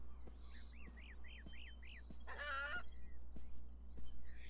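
A chicken clucks in the video game Beyond Eyes, with a run of quick repeated clucks followed by a louder squawk over soft game ambience and a steady low hum.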